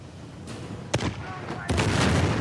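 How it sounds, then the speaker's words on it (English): A grenade launcher fires in the video game Uncharted 4, two sharp booming blasts about a second apart, each trailing into a rumbling roar, with voices talking underneath. "Oh, that is a grenade launcher"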